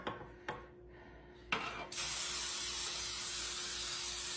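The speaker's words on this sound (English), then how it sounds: "I have my baking spray." Baking spray hissing from a can into a pie dish, a few short puffs followed by a long, steady, close spray.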